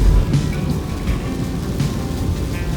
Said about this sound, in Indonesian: hujan makin keras lagi